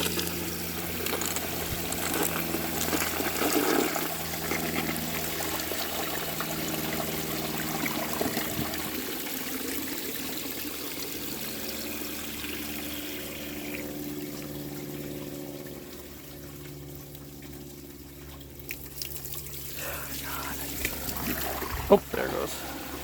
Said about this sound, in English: so let's give it a flush